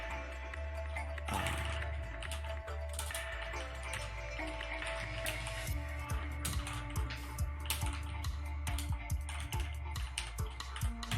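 Rapid computer keyboard typing clicks away in quick, irregular bursts, close and fairly clear over a steady low hum.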